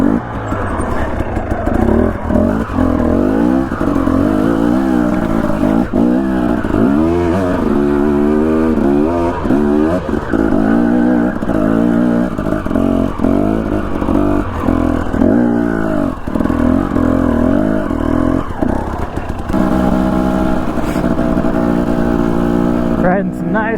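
A dirt bike engine revs and throttles steadily throughout, loud and close, while riding dusty single track in the Idaho mountains, with fluctuating pitch as the rider accelerates and eases off.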